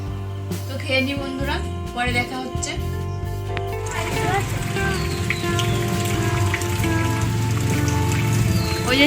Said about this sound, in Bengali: বৃষ্টি তো কমই নেই, এখন একটু কম হলো